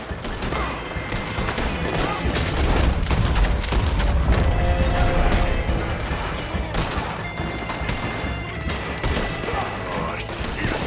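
Sustained heavy gunfire from a Gatling gun in Red Dead Redemption 2, a dense loud rattling barrage with booming impacts throughout, swelling in the middle and continuing steadily.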